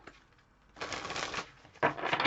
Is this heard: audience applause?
no